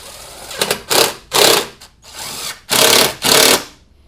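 A power driver runs Torx screws on a 2002–06 MINI Cooper S during clutch replacement, sounding as several short, loud bursts of whirring close by, separated by brief pauses.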